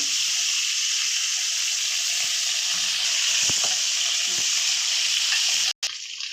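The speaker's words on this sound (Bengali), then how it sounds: "আমার আলুটা ভাজা হয়ে গেছে" Potatoes fry in hot oil tempered with panch phoron and green chilies, giving a loud, continuous close sizzle with occasional stirring knocks. The sound cuts out briefly near the end.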